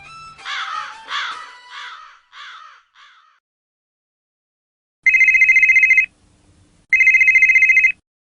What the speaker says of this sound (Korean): 한 남자가 전화벨이 울리는 휴대폰을 들어올립니다.